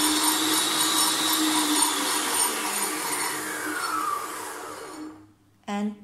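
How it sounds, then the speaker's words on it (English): Milux MFM-3615 stand mixer with whisk attachment at top speed 6, a loud high-pitched motor whine that slowly winds down near the end, then a brief burst of sound just before the close. "Now I'm going to show the demo of the speed sounds from 1 to 6."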